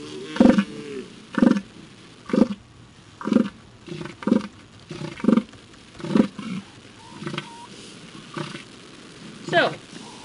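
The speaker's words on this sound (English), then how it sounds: "here, for example, is the sound of an elephant seal" An elephant seal gives a long series of deep, pulsed guttural bellows, about ten evenly spaced throbbing calls, loud and close with little else around.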